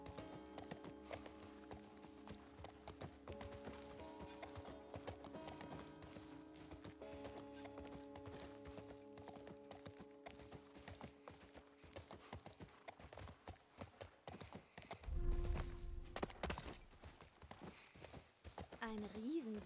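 Horse hooves clip-clop in a steady walking rhythm while riding in the video game The Last of Us, with a brief snort or whinny near the end. Voices talk over the hoofbeats throughout.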